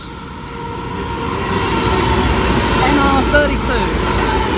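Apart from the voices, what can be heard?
Pacific National freight train passing through station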